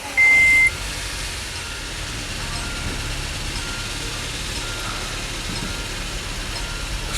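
A waterlogged MG Hector SUV's engine idles rough and misfiring, a steady low drone heard from inside the car with a short electronic warning beep near the start.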